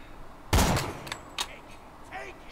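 Gunfire in the video game Borderlands 2, a loud close burst of shots followed by a few sharper single cracks and softer reports, fading into quieter game noise.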